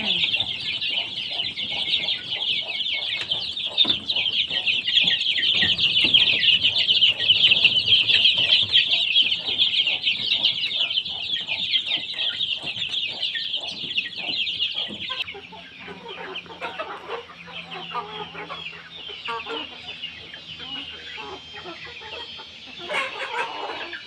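A flock of Hmong chickens and chicks clucks and chatters steadily nearby awaiting feed, with a dense chorus of calls that thins out partway through.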